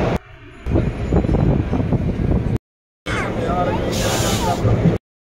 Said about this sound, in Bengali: আমরা ভুবনেশ্বর থেকে লোকাল ট্রেন করে পুরীর উদ্দেশ্যে রওনা দিলাম।